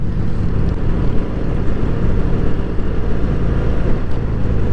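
A 2022 Harley-Davidson Street Bob motorcycle rides without a windscreen through the Blue Ridge foothills, its engine rumble buried under heavy, steady wind roar against the microphone.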